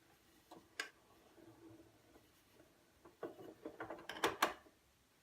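An Audio Technica AT-LP60BK turntable platter is turned slowly by hand, giving quiet ticks and small mechanical clicks that grow into a cluster of louder clacks as the automatic mechanism cycles.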